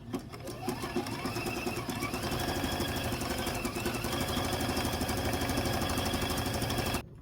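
Sewing machine stay stitching a small quilt appliqué block, a fast steady mechanical whir of rapid needle strokes that runs continuously for several seconds at close range, then stops abruptly.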